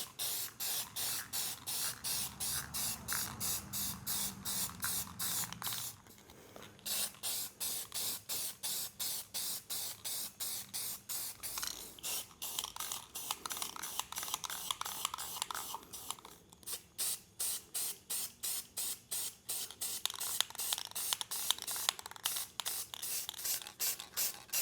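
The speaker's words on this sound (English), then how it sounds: "About 5 minutes worth of painting." Spray paint hisses onto a laser-cut wooden sign in a long series of short, rhythmic bursts, close and steady, with a brief pause partway through and no talking.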